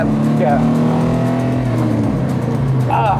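An MGB with a custom-built V8 engine drones steadily from inside the cabin, a loud low engine hum running throughout while people talk over it.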